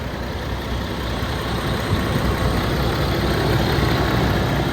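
A semi truck diesel engine running rough after injector cleaner was added through the fuel filter housing, a loud, steady low rumble that holds without pause throughout.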